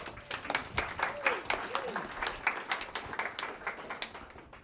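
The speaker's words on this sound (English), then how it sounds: "I'm amazed people clap first." An audience at a conservation presentation claps in a soft, quick patter that holds steady for several seconds, and a few voices are faintly heard under the applause.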